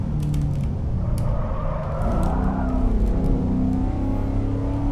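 A Spec P71 car engine in the Assetto Corsa racing game is held at redline, producing a loud, sustained, harmonic-rich engine drone whose pitch wavers slightly mid-way.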